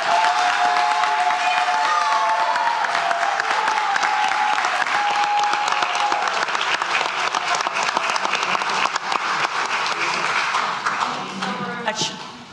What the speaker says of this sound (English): All right, big rounds of applause for you.